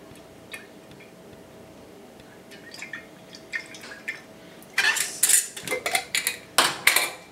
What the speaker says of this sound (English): I'm just going to stir it.